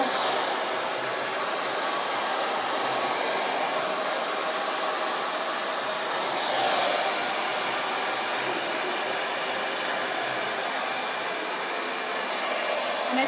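Hair dryer blow-drying a section of hair, a loud steady close-up roar of rushing air that runs unbroken throughout, with slight shifts in tone as the airflow moves; no talking.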